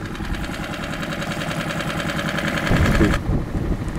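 A fishing boat's motor chugs steadily while leaving a harbour in Groningen, close and loud, briefly surging louder near the end before settling back to an even throb.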